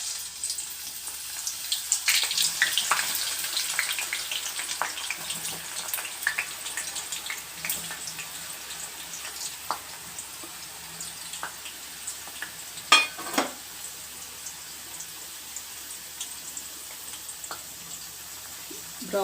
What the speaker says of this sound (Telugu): ఇప్పుడు ఈ ఉల్లిపాయ ముక్కలు డీప్ ఫ్రై చేసుకోవాలి